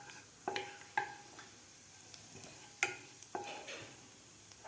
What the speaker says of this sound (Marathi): जिरे व्यवस्थित आपल्याला परतून घ्यायचे आहेत.